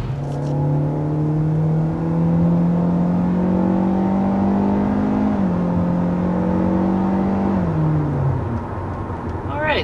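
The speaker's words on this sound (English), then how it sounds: "So there we are accelerating up to 60 miles per hour in the 2023 Hyundai Elantra" A 2023 Hyundai Elantra accelerates up a steep hill toward 60 mph, its steady engine drone rising smoothly in pitch with a gear shift midway, loud and continuous from inside the car.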